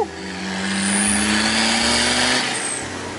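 A full-race Toyota Tamaraw FX engine revs hard and climbs quickly in pitch, a loud, close, sustained roar lasting about three seconds.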